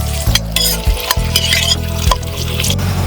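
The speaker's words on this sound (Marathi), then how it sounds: "हे सगळं आपण तेलात परतून घेऊया." Chopped onion frying in oil in a pan for a Saoji mutton curry, with a loud close sizzle broken by repeated scraping stirs of a spoon against the metal, and no talk.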